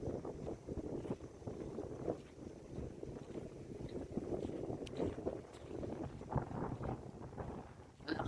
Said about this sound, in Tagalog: Lakas ng hangin, sarap.